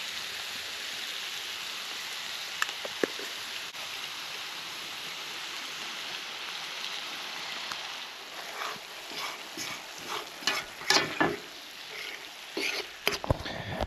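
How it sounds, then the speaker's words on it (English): Minced shiitakes, onion, jalapeno, garlic and anchovies frying in a pan, a steady close hiss with crackling pops that grow busier and sharper toward the end, with no talk over it. "We're gonna mince all this stuff up and we're gonna fry it in that pan."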